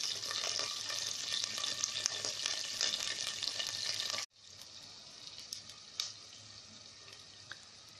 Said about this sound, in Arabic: الفلفل كده اتحمر